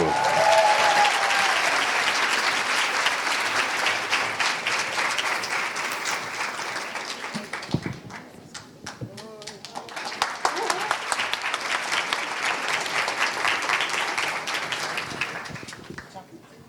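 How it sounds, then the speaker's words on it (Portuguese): A large audience applauds at length for Costanza Pascolato, the broadband clapping dipping briefly midway before swelling again, with voices and whoops mixed into the ovation. "Podem bater palmas, Costanza Pascolato."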